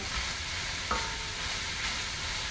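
Turkey chili being stirred in an all-purpose pot, a steady broadband simmer with a few soft scraping strokes of the spoon, close and alone.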